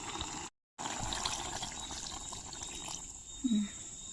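Water poured out onto soil outdoors, a soft, faint trickling and splashing that runs steadily for several seconds, briefly cut to silence early on, with a short louder splash near the end.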